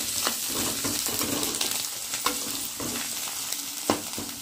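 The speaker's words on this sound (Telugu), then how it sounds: "ఈ ఫ్రై అయిన కొంచెం వెల్లుల్లి పేస్ట్ వేసుకొని బాగా ఫ్రై చేసుకున్నాం" Garlic paste frying in a curry, loud continuous sizzling close up with spoon stirring strokes and occasional scraping clicks against the pan.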